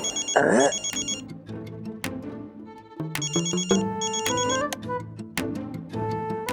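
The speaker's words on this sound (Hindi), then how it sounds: "ये इतनी सुबह क्यों फोन कर रहा है?" A telephone rings in repeated bursts of a bright electronic tone, mixed with background music and clattering sounds.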